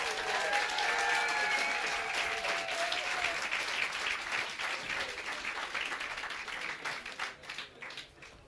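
Sustained audience applause for school girls' rowing crews at a boat race, a dense wash of clapping that stays loud for several seconds before thinning out and fading toward the end.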